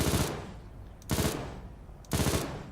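Machine gun fired in a video game at a shooting range, three separate loud, close bursts of rapid fire, each sustained about a quarter second with pauses between them and no talking.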